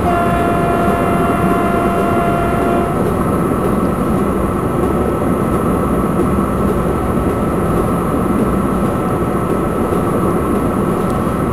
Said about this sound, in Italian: Vai di clacson.